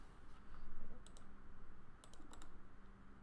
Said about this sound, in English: I'm going to type in SEW